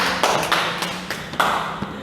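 Sparse, irregular claps and taps at a public speaking event, a handful of separate hits with small gaps between them, nearby and fairly loud, with no voices.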